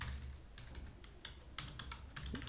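Quiet, close computer keyboard typing while writing JavaScript code, a run of soft irregular key clicks with a few sharper taps.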